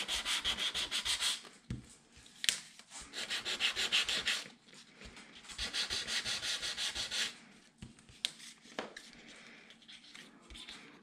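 An old sanding block rubs over a craft card holder in steady back-and-forth strokes, bursts of close, dry scratching separated by short pauses and a few light taps.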